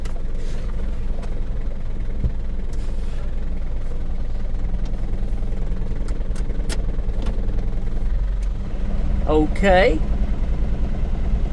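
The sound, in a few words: truck engine idling with air conditioning compressor cycling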